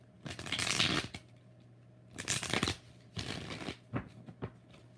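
Tarot cards being shuffled by hand, several brisk riffling bursts separated by short pauses, close and crisp with a steady low hum beneath.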